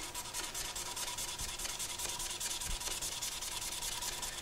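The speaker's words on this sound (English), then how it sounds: "I'm going to take that same 220 grit and I'm going to go straight with the grain" Sandpaper of 220 grit rubs a wooden pen blank with the grain, a close, continuous abrasive hiss with quick rhythmic strokes, no voices present.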